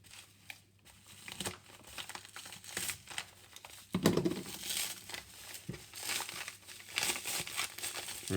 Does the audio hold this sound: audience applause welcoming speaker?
no